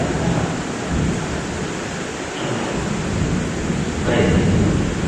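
Heavy rain pours steadily with a deep rumble of thunder rolling underneath, a dense continuous wash of noise filling the whole stretch, loud and enveloping with no pauses.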